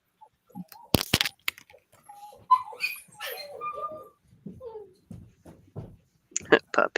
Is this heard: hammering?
no